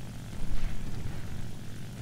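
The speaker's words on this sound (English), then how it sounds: "So yeah, right now I'm flying this plane." A J2M3 Raiden propeller aircraft engine drones steadily in War Thunder, a loud, continuous low rumble with slight throbbing swells and no talk.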